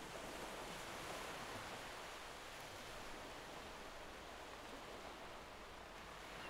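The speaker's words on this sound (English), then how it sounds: "Soft waves crash gently against the steady shore" Gentle ocean waves wash steadily onto a warm tropical beach shore, a soft continuous surf hiss with no distinct breaks, even and unhurried throughout.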